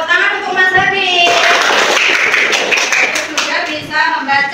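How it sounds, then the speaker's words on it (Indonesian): Indonesian classroom of children clapping hands in applause, a dense burst of many hands lasting a few seconds, with children's voices and a teacher talking around it. "tepuk tangan untuk Mas Habib."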